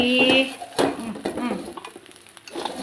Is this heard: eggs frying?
yes